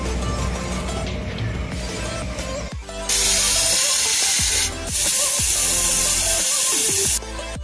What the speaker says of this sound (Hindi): सबसे पहले तो सीटी दिया है भाई कुकर ने